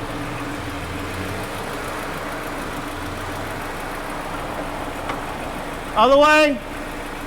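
A Subaru Crosstrek engine runs steadily in drive with a wheel spinning freely, a continuous low hum throughout. A person speaks briefly near the end.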